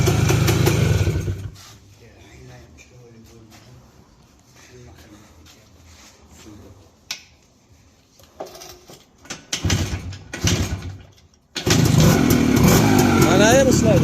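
A motorcycle engine roars loudly at the start and again at the end, with a quieter stretch of people talking and clicking handling in between.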